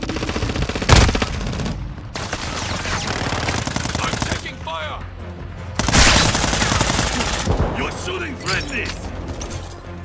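Gunfire from the video game Call of Duty Modern Warfare 2: rapid automatic bursts and sharp shots, with loud blasts near the start and midway, set in an ongoing battle with voices talking in between.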